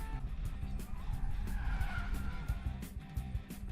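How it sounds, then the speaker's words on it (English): Car tires skid and squeal loudly in a film scene, with repeated screeching bursts over engine rumble. "That's actually her driving the car."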